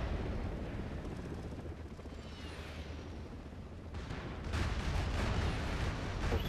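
Bombers strike a bunker in the PS3 military shooter MAG, a dense, continuous low rumble of explosions and aircraft noise that swells louder in the final seconds, with no speech.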